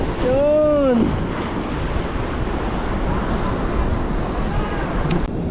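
Wind blows at a seaside fishing spot at high tide in a constant, loud broadband rush mixed with surf. A brief tonal sound rises near the start.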